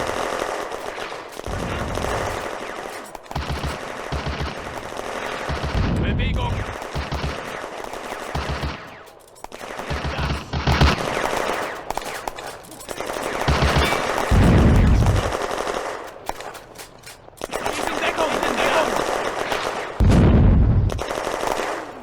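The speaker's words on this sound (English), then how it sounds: "Both German sections now advance to break into the Soviet position. Under supporting fire from the Panzers." Machine-gun bursts and heavy tank cannon fire in the Firefight Ost Front wargame, a German assault with Panzer support on a Soviet position at a railway junction; loud, repeated rattling volleys with booming blasts, continuous gunfire throughout.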